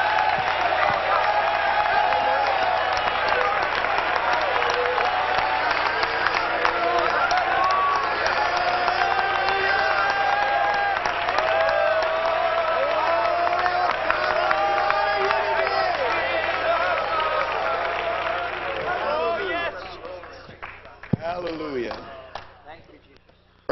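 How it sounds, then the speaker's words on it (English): A church congregation clapping and shouting praise to God, a sustained crowd roar of cheering voices and applause, loud and continuous before fading near the end with a sharp knock. "Let's clap unto the Lord together. And as you clap, let's shout unto God with the voice of triumph."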